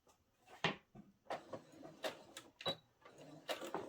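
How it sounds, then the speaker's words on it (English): A sewing machine topstitches fabric around a mitered corner at a longer stitch length, giving quiet, uneven bursts of mechanical whirring and clacking with short pauses between runs. "I'm going to start sewing on the right side in the middle of one of these"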